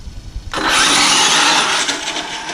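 An RC car on 6S power roars up at full throttle in a straight line, a sudden loud electric whine that holds for about two seconds and then tapers off slightly.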